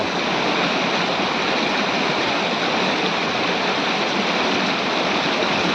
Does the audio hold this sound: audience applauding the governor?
no